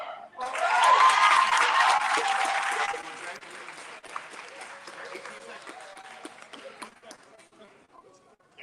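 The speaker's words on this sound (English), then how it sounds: "clap it up for her" A community gathering's audience breaks into applause, a loud burst of clapping for a few seconds that then thins to scattered claps and murmuring voices.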